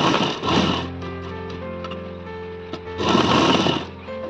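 A sewing machine stitching the lining of net saree fabric being made into a long gown, running in a steady rapid whirring rhythm with brief pauses and louder bursts at the start and end, close and alone.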